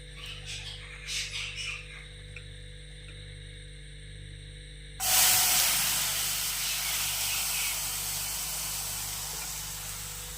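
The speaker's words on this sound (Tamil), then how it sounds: "இப்போ காய வச்ச பாலை எடுத்து அதே பேன்ல ஊற்றிக்கலாம்." Boiled milk hits a hot pan used for toasting bread, bursting into a loud, steady sizzle and hiss that begins abruptly and continues without break after quieter kitchen sounds.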